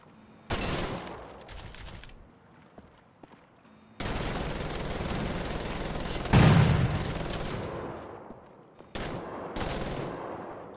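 Rapid automatic gunfire from the shooter game Wolfenstein: The Old Blood, loud sustained bursts separated by short pauses, with one heavier blast in the middle, alone without talk.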